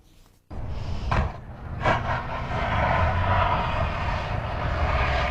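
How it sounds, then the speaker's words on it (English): Engine drone of the N400VL airplane during an emergency crash landing with its landing gear stuck, a sudden steady roar that starts abruptly and holds loud and continuous, broken by a couple of sharp knocks early on. "We have the exclusive video of the crash landing."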